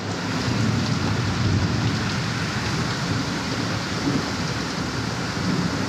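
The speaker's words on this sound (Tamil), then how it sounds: "சரியான மழை அடித்து வெளுத்து வாங்குது" Heavy rain pouring steadily in a downpour, a dense, loud, even hiss of drops with no pauses and no voices.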